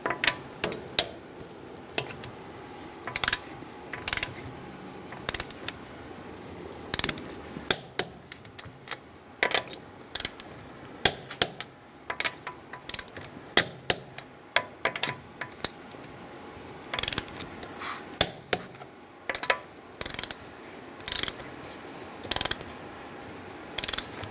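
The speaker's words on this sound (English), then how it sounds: "we are going to torque our wheels to 80 foot-pounds with a 21mm socket" A ratchet with a 21mm socket torques the wheel lug nuts on a 2010-2013 Kia Soul, giving repeated quick clicking pawl bursts in irregular runs, close and distinct, with quiet pauses between pulls.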